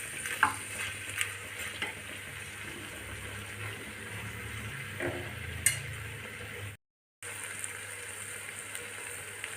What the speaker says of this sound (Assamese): চিমত দি থৈছোঁ গেছটো, আৰু মই এনেকৈ লৰাই আছোঁ